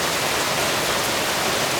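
Rain falls steadily outdoors over a rice field, a loud, even, broadband hiss with no breaks and no voices.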